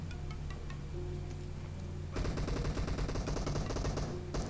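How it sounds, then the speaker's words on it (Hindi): Gunfire in a PUBG-style battle royale mobile game, with dense bursts of automatic fire starting midway and rattling rapidly for about two seconds, loud and close, after a quieter stretch of background game sound. "और ओपन में लूटते लूटते ही भाई मुझ पर फायर आता है"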